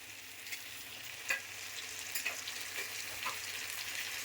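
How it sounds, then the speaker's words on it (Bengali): A spice paste sizzles and fries in a pan with pointed gourd and shrimp, a soft steady crackle broken by occasional scraping stirs, heard quietly with no speech. "দিয়ে ভালো মতো নাড়িয়ে চাড়িয়ে একদম পুরো কষাবো।"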